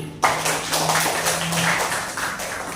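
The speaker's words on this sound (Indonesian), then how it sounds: "Tepuk tangan lagi." Applause from a school audience during a student presentation on environmental pollution, a dense steady clatter of many hands that starts abruptly and continues loudly throughout, with no talking over it.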